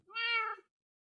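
A single short, clear meow from a cat in the video game Minecraft, one tonal cry of well under a second followed by silence.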